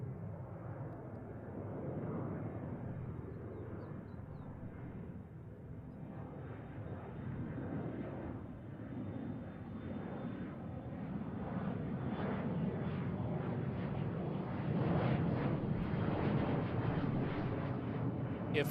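SkyWest Embraer 175 jet departing, a steady roar of engines from a distance that slowly builds and swells in loudness, with no one talking.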